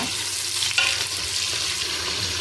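Onions frying in a pan for a country chicken biryani give a steady, close sizzle with brief stirring scrapes, no voices over it.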